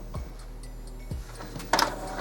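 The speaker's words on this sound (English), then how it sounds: "Now this will take your printer just a minute." An Epson XP-4150 inkjet printer running print head alignment, with a low motor hum, a couple of soft mechanical thumps and a brief burst of whirring carriage and paper movement near the end.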